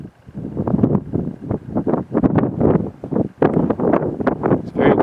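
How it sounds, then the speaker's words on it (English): Strong gusts batter the microphone at a canyon viewpoint, producing loud, rumbling, uneven buffeting that surges and drops continuously throughout. "It's very windy up here,"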